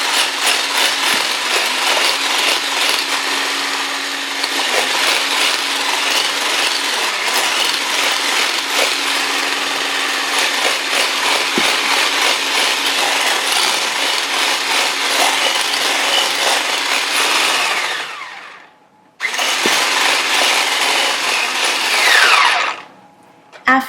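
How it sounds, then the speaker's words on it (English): An electric hand mixer blends butter and all-purpose flour for a pound cake, giving a steady, loud motor whir with beater rattle that runs continuously, dips and cuts out briefly near the end, then resumes. "Now adding all-purpose flour little by little while I'm whisking or blending the butter."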